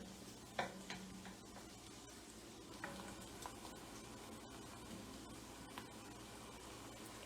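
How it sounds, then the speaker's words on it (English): Soft, steady sizzling of onions frying in a pan for Moambe chicken, with occasional light clicks and scrapes of stirring, quiet and continuous. "As we watch these onions sizzle up."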